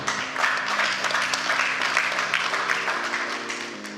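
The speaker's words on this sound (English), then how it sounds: "Let's give ourselves a round of applause." A conference audience gives itself a round of applause, a steady wash of many hands clapping at moderate distance with a low sustained hum running underneath.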